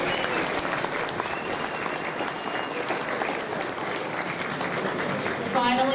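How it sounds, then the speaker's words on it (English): A round of applause from a sports club crowd at a league tag awards gathering, a steady wash of many hands clapping together for several seconds, fairly distant and even, with voices mixed in. "Please join me everyone in giving a round of applause."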